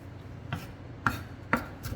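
A kitchen knife slices vegetables on a cutting board in a cooking class, with four crisp, evenly spaced chops that are close and fairly soft.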